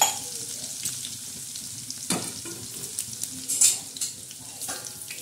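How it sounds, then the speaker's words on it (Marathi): Garlic sizzles in hot oil, a steady fizzing hiss broken by occasional scrapes and clinks of a spoon stirring the pan. "फोडणीसाठी हा लसूण टाकलेला आहे"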